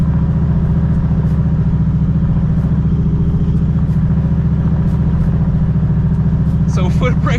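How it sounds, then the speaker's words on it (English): A Ford Mustang SN95 engine held against the foot brake near 3,000 RPM, producing a steady, loud droning rumble that stays level throughout, with a brief burst of talk near the end. "So foot braking it to almost 3K."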